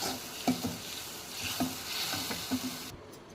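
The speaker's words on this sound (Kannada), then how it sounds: "ಹುಣಸೆ ರಸ ಕುದೀತಾ ಇದೆ ಇದನ್ನು ಈಗ ಸಾಂಬಾರಿಗೆ ಮಿಕ್ಸ್ ಮಾಡ್ಕೊಳ್ಳಿ" Boiling tamarind juice being stirred into drumstick sambar in a pot: close scraping stir strokes and a few knocks of the spoon, over a steady bubbling sizzle.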